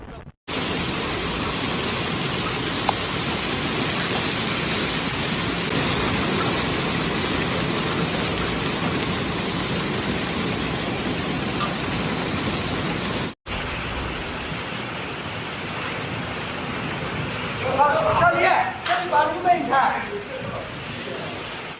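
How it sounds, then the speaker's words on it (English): Heavy rain and hail roar as a steady wash of noise in a storm with strong winds, cutting to a second stretch of downpour where a voice talks faintly over the storm near the end. "powerful winds, hail, and thunderstorms unleashed their fury upon the region."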